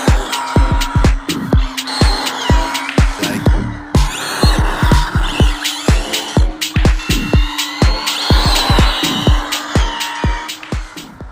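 An Arrma Limitless RC car is driven hard outdoors, its electric motor whining in rapid repeated bursts with sharp rattling ticks and tire noise, loud and close throughout.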